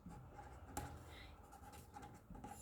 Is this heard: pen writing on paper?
yes